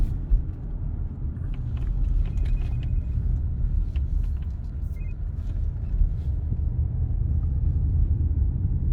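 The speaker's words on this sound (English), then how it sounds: "I'm driving at the moment" Steady low engine rumble and road noise from inside a moving car, continuous and even throughout with no voices.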